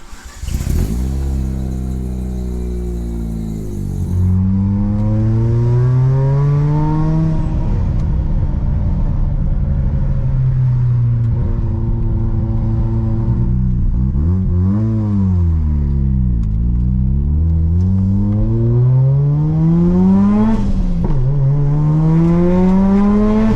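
A Mazda RX-7 FD fitted with a short shifter under way, its engine droning loudly and steadily and rising in pitch through repeated revving climbs, with dips between gear changes.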